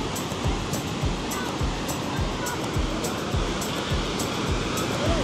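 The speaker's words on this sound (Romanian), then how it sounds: "Valurile sunt puțin cam mari." Ocean surf breaking on a Rio de Janeiro beach, a steady roar of water with repeated low wave crashes about every half second to second, close and continuous, with no voices.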